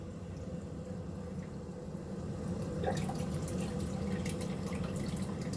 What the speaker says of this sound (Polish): O, dolewka dolewa wody.